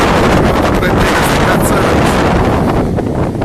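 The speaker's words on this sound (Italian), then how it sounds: "il mare è ancora incazzato" A rough, angry sea whipped by strong wind, with heavy gusts buffeting the microphone over churning waves in a loud, continuous roar.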